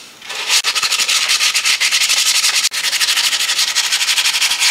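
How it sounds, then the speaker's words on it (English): Hand sandpaper rubbed along the stripped edges of a solid-body electric guitar, a loud steady series of rapid rasping strokes with one brief pause, heard alone. "I'm going to take a piece of hand sandpaper and I'm going to clean these edges out."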